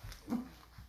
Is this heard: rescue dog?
yes